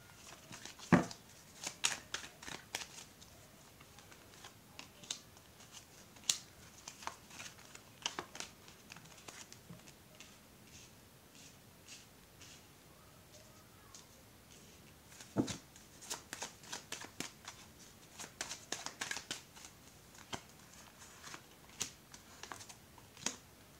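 Tarot cards are shuffled and laid out on a table, with soft repeated flicks, taps and slides scattered across a quiet stretch, close but faint.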